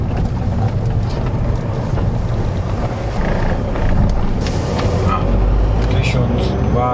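A Volkswagen Golf V with the 1.9 TDI turbodiesel pulls hard under acceleration, a steady diesel drone rising in pitch beneath heavy wind and road noise inside the cabin, with someone talking throughout.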